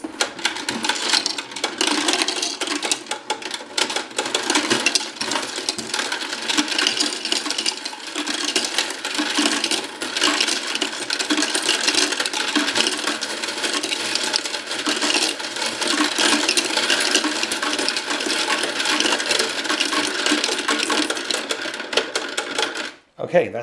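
A Royal Sovereign electric coin sorter whirs steadily while a handful of coins rattles and clinks through it, a dense continuous mechanical chatter lasting throughout.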